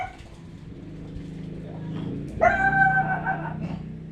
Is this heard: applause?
no